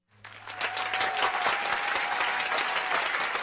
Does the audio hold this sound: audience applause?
yes